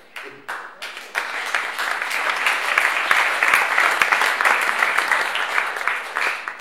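An audience breaks into sustained applause after a speaker's remarks on victim services and treatment programs, the clapping rising quickly and holding as a dense, loud wash of many hands with scattered sharper claps.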